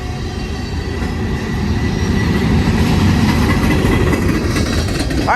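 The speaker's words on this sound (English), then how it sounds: "It's moving along pretty good with only 3 power units going uphill." A Union Pacific manifest freight train of empty autoracks, hauled uphill by three locomotives, climbs Cajon Pass near the summit in a loud, steady roar of engines and rolling wheels that swells slightly midway, with a squeal at the end.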